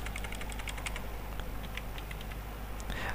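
Rapid, steady clicking of a computer keyboard as text is typed into MS Word, close and fairly quiet over a constant low hum, with no one speaking.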